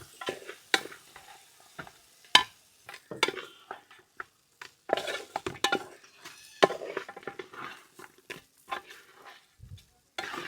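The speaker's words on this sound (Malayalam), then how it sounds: "ഇനി എല്ലാം കൂടി നന്നായിട്ടൊന്ന് മിക്സ് ചെയ്തെടുക്കാം." A spoon stirs fried sardines through hot vinegar for Kerala-style sardine pickle, making a series of close, irregular scraping and clinking strokes against the pan, with soft pauses between them and no talking.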